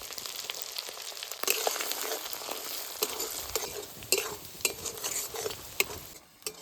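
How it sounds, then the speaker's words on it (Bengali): Ginger-garlic paste and chopped green chilli sautéing in hot oil for a village-style fish roe curry, a steady close sizzle broken by repeated scraping stirs of a spatula, with no talking. "আদা রসুন বাটা দিয়ে এবার ভালো করে একটু কষিয়ে নেব"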